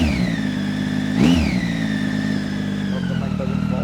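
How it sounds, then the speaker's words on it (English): A Triumph Tiger 800 motorcycle fitted with an Arrow exhaust idles steadily and then gets a single quick rev that rises and falls back to a loud, close idle. "I'm going to leave the mic over here and I'm going to rev it now."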